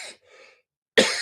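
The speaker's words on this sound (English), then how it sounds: "Got a bit of niggly cough." A single sharp cough bursts out near the end, after a couple of brief throaty sounds.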